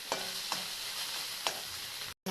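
Boiled chicken and chopped spring onion stirred in a pan on the stove, a steady close sizzle with a few soft scraping strokes of the spoon, then a brief break near the end.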